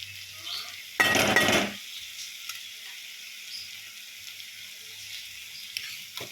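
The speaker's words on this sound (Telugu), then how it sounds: "ఇప్పుడు మనం ఉడకబెట్టుకున్న మీల్ మేకర్ తెచ్చి ఇందులో వేసేద్దాము." Boiled soya chunks (meal maker) drop into a simmering curry, making a short, loud splash-sizzle with a utensil clink. A quiet bubbling follows, and no one speaks.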